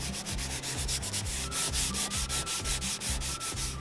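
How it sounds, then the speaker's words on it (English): A blue Scotch-Brite pad is rubbed back and forth over a scratched luxury vinyl plank floor, giving a steady rhythmic scrubbing, close and fairly loud, with no talk. "what you're going to do is do a light rub over top of both of these"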